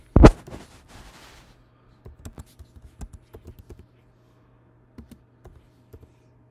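Typing on a computer keyboard during Mac terminal work, with crisp close keystrokes in an uneven burst after a louder initial thump, then a few scattered taps.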